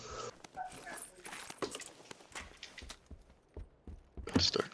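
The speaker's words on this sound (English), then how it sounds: "Man, they locked the dog up. She's going crazy in there." Dog locked inside a building in a PUBG: Battlegrounds game, giving scattered sharp barks, yips and whimpers mixed with other game noises; the sounds come in uneven bursts, with a louder cluster at the end.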